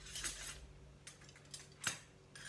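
Metal cutlery clinks and scrapes in a few short bursts, close by and fairly quiet, with no one speaking.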